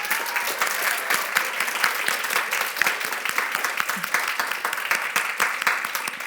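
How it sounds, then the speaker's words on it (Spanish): An audience applauds a guest speaker at an animation talk with dense, continuous clapping that holds steady and fairly loud throughout, with no voices over it. "Aplauso para Mati Laguna."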